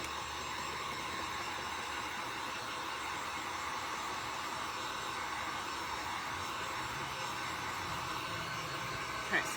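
A hair dryer blows steadily and loudly over wet acrylic paint on a bunny painting, a continuous airy roar that barely changes for the whole stretch.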